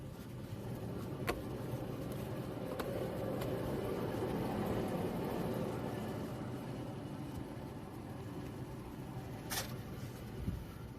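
A 2007 Toyota Tundra with a failing front wheel bearing cruises down the road, giving a steady, loud rumbling drone from inside the cab with a few faint clicks and knocks.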